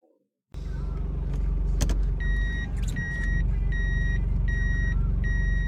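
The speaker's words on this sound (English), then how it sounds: "The man puts his car in reverse and drives off once more." A car idles with a low, steady engine rumble, and a regular electronic beep pulses repeatedly while it reverses. A sharp knock sounds near the start.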